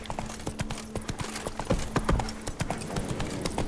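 Roach, Geralt's horse in The Witcher 3, galloping, with crisp rapid hoofbeats close up and a brief neigh in the middle, under light game sound.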